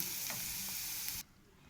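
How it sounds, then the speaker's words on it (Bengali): Broad beans (sheem) sizzle and crackle as they fry in a pan, with a few faint stirring scrapes, a steady hiss that stops abruptly near the end, leaving quiet. "প্রথম থেকে লাস্ট তোমাদের মৌসুমি সিমের ভাজাটা দেখালাম।"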